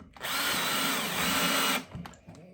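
A power drill drives screws into wood while building a fairground ring-the-bell high striker game, one loud sustained whir of about a second and a half, close by, followed by faint handling clatter.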